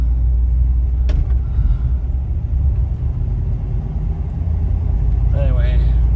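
A 1954 Lincoln Capri cruises along with a low, smooth engine rumble heard from the cabin, with brief speech toward the end.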